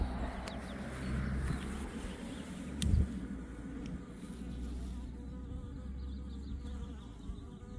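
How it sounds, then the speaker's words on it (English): Honey bees buzz steadily around a hive surrounded by flowers in a beekeeping yard, a dense, continuous outdoor drone with one brief louder pass near the microphone. "The bees are loving it."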